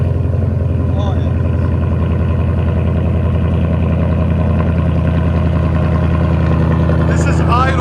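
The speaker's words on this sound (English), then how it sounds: "This is idle, guys. Cold start idle." A Ford F-250 with a 6.8L V8 idles after a cold start through its exhaust, a loud, steady, deep rumble held evenly throughout with faint voices in the background.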